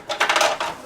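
Reusable ice cubes drop into a drinking glass for iced coffee, giving a quick cluster of four or five hard clinks and rattles in under a second, close and alone.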